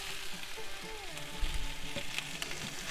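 Vegetables frying in a pan over a campsite stove, a steady close sizzle with faint crackles and small stirring knocks throughout, no talking.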